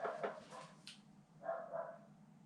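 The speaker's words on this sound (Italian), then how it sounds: "Il cane che abbaia" A dog barks a few times at moderate distance in a quiet outdoor setting near Lake Garda, short sharp yaps followed by a couple of softer barks after a pause.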